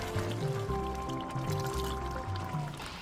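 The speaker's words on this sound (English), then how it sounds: "I think I need to add more water to it." Water pours into a pot of Nigerian egusi melon soup, a steady close trickle and fill sound lasting a few seconds under faint background tones.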